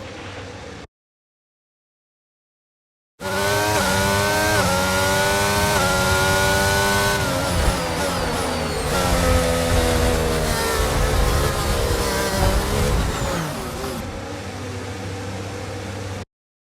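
A Formula 1 car engine in the F1 22 racing game at the Hungaroring revs and whines through rising and falling gear sweeps, loud and close, after a brief gap of silence near the start.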